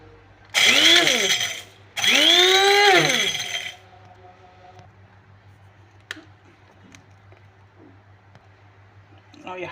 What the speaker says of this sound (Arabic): اروح بقى اطحنه باذن الله في المطحنه